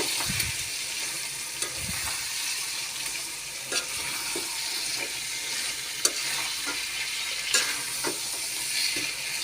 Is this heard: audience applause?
no